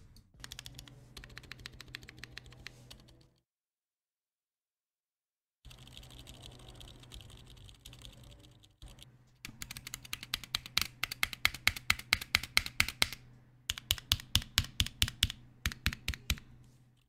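Typing on a KBDfans custom mechanical keyboard fitted with silent switches: close, rapid muted clacks in bursts with a pause, then faster, firmer runs of keystrokes, no talking.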